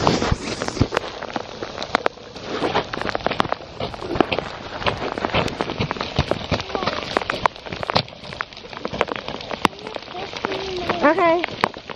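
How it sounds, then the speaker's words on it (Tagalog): Freezing rain mixed with ice pellets falls during a snow storm, a dense, close patter of sharp ticks and taps striking surfaces, with a voice speaking briefly over it. "Oh, it's raining ice. Ice and water."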